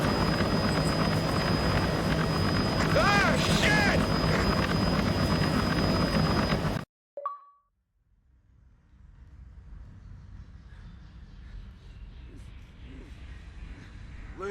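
A helicopter in Kane and Lynch 2: Dog Days roars loud and close with a dense steady whine, cuts off abruptly halfway, then faint low rumbling and scattered noise follow.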